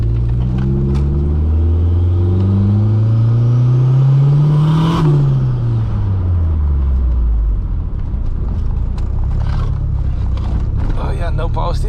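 A Honda Jazz race car pulls hard in second gear, its engine note climbing loud and close for several seconds, then easing off into rumble and clatter.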